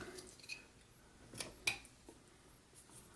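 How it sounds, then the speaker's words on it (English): A knife presses short stop cuts into a wooden figure being whittled, producing a few faint, sharp snicks and scrapes among soft handling noise, with no voices. "Put a little stop cut there, and then a little stop cut here."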